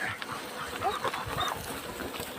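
A dog whimpers and yelps close by, short whiny cries rising over a rough, noisy outdoor background.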